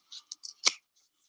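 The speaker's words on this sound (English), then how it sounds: "this is another reason I like these scissors, because you can clip right up" Fabric scissors snip through several layers of sewing fabric at a sewing class: a few short, crisp close cuts followed by one louder closing chop, with no talk.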